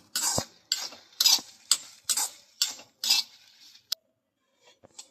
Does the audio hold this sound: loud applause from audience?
no